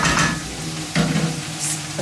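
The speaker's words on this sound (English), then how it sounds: "A slotted spoon to transfer it to the bowl." A slotted spoon scrapes and lifts cooked ragu from a pan into a bowl, giving short stirring and scooping scrapes with soft clinks at a moderate, close level and no talking.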